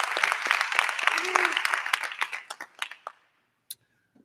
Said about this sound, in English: I hope you would give him another round of applause for all the work that he has done